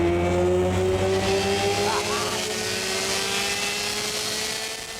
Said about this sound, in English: The supercharger is engaged by pressing the throttle full down on the floor.